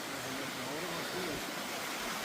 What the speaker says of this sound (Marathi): पावसाळ्यात खूप मोठी नदी वाहत असेल, असा झरा आलेला आहे